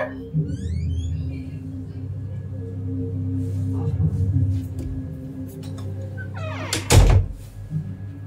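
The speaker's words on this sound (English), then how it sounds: "You can open the door now!" A door opens with a loud thunk and brief clatter near the end, standing out above a steady low hum and rumble in a room, with faint scattered sounds before it.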